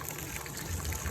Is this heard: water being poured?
yes